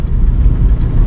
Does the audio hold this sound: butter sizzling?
no